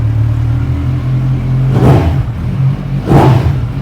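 Liter-class engine of a second-hand 2019 motorcycle in a Mumbai used-bike showroom, idling loudly up close and then revved twice in short, sharp bursts that fall back to idle.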